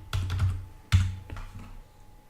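A few keystrokes on a computer keyboard as a short terminal command and password are typed, two clusters of close, clicky taps with a brief pause between them.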